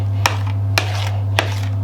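A utensil scrapes worm cake batter from a tray, three sharp metallic clicks about half a second apart over a steady low electrical hum.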